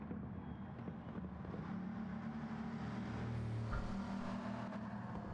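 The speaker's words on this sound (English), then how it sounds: "I think the first car to finish will be Madata" A racing car engine on a circuit during a premier league race round, a steady low drone that swells slightly as the car passes at moderate distance, heard on its own.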